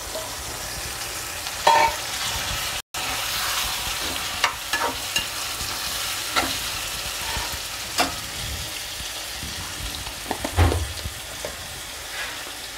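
Prawns frying in a pan with browned onions for a cashew masala curry, a soft steady sizzle with intermittent stirring scrapes and taps, fairly quiet and close, one brief dropout early on.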